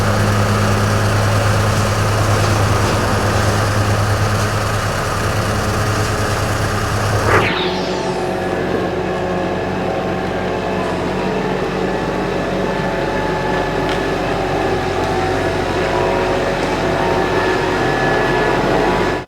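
A tractor pulling forward in first gear with an implement on the three-point hitch, its engine a steady loud drone that shifts pitch partway through and then runs on evenly.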